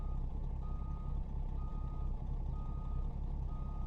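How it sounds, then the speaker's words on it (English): A Kenworth W900L truck in American Truck Simulator reverses with a steady, evenly spaced backup beep over a low idling engine rumble, continuing without a break. "I'm just reversing under with the idle."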